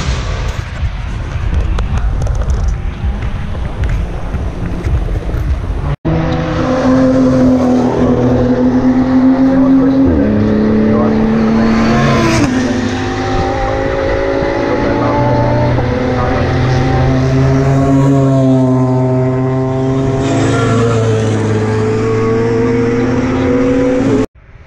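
Race cars at the Nürburgring 24 Hours, engines roaring loudly and continuously nearby, with rising and falling revs as the cars pass and one abrupt cut partway through.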